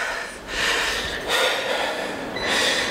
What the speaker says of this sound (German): lass mich kurz schnaufen